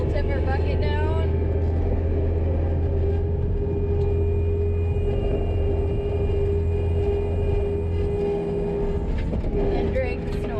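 A Bobcat S185 skid-steer loader pushes snow with a homemade snow blade, its engine a loud, steady, close drone with a constant hum that dips briefly near the end.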